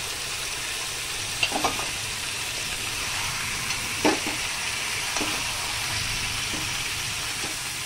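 Ground cumin and coriander sizzle steadily in a hot pan for chicken and potato curry, a constant close frying hiss broken by a few soft stirring scrapes.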